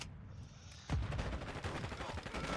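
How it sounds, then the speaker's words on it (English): A battle rifle fires in the video game Modern Warfare II: after a quiet start, a rapid burst of loud, punchy shots follows, with low booming thuds layered under it. "So this is a battle rifle."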